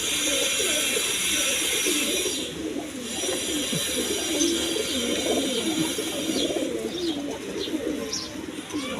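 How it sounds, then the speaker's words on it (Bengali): Pigeons of various breeds cooing in iron and bamboo cages at a pigeon market: soft, continuous rolling coos from many birds, with occasional chirps over a constant background murmur. "এইখানের কবুতরগুলো দেখেন এইখানে বিভিন্ন বিটের কবুতর আছে দেখেন"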